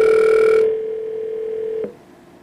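A telephone dial tone sounds steady and loud at the start of a phone call to the Jehovah's Witnesses office in Wallkill, dropping partway through before cutting off abruptly, with no talking.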